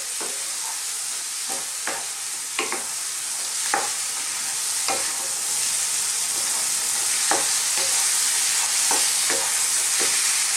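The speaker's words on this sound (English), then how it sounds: "Keep stirring this, but let's throw it around in the pan just for about a minute or 2." Ground spices frying in a pan for a chicken and mushroom curry, stirred steadily with a constant sizzling hiss and repeated scraping strokes of the spoon, close and fairly loud, no talking.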